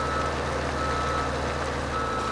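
Steady electronic reversing beeps from a Volvo truck mod in a video game, a constant tone sounding continuously over a low, even engine drone for the whole short stretch.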